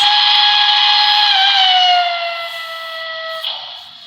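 A single long, loud steam whistle from a model Broadway Limited PRR K4s streamlined locomotive blows steadily with a bright chime-like tone, dropping slightly in pitch and fading toward the end.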